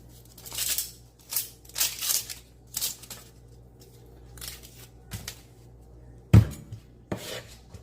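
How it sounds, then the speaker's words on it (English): Knife dicing an onion for chorizo mac and cheese on a cutting board: a series of crisp, close chopping bursts in uneven clusters, with a sharper knock near the end and quiet pauses between. "saute that while I'm dicing the onion"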